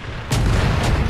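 A tank cannon shot punching through enemy armor in the mobile game Tank Company, one heavy booming blast that hits suddenly and rolls on as a loud, dense rumble.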